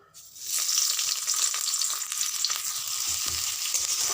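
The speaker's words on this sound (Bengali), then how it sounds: "এই গরম তেলের মধ্যে প্রথমে আমি দিয়ে দেবো পেঁয়াজ কুচি" Chopped onion hitting hot oil in a wok on a gas stove, with a sudden onset of loud, hissing sizzle that carries on steadily and close by, with no voices.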